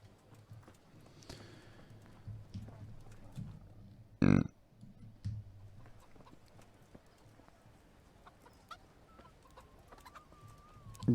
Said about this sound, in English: those are chickens, not turkeys